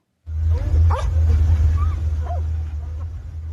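Rescue dogs bark a few times at a mud-caked pile of rock and debris after a flash flood near Tibet's border with Nepal, the yelps rising over a steady engine rumble.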